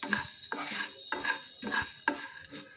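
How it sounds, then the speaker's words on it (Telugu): Coriander seeds, cumin and black peppercorns being dry-roasted in a pan for rasam powder, stirred in five quick scraping strokes with rattling seeds, close and fairly quiet. "జీలకర్ర మిరియాలు వేసి వేయించాలి"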